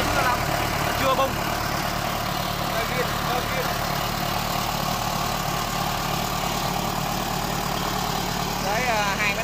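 A DC95 engine fitted on a tracked tiller idles steadily in a constant low chug throughout, with someone talking over it.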